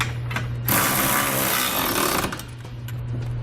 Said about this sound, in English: I'm going to come back with a 3/4 inch socket. You can also use a 19mm socket, and I'm going to snug up all my hardware.